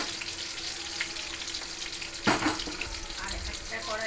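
Ridge gourd and potato fry in a wok with a steady background sizzle, broken midway by a sudden louder hiss and splutter as the pieces hit the hot oil, then settling back to a soft crackle.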